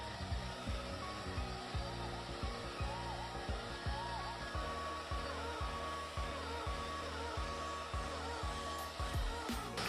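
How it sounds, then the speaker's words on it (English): A hair dryer blows warm air onto natural hair in a steady, close, continuous whoosh with a soft motor whine and faint rhythmic fluttering underneath. "I'm gonna turn my blow dryer to hot or warm or whatever, and I'm just gonna blow it gently on the front"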